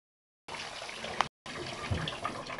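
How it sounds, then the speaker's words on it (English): Water runs from a tap over a guinea pig during a bath, a steady hiss and trickle that stops briefly and resumes, close and fairly quiet. "And just letting the water run down his belly."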